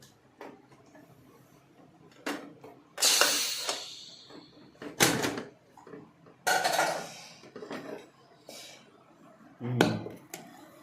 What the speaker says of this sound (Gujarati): હવે આપણે આપણું કુકર ઠંડુ થઈ ગયું છે તો ખોલીએ.